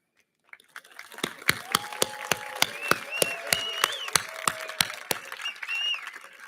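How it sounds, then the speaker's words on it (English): Applause at a high school graduation in Newport, Rhode Island: sharp, evenly spaced hand claps ring out over a soft wash of scattered clapping and murmuring in a large room, steady for several seconds. "Your applause will be a symbol of your gratitude for all they have done for you for the past years."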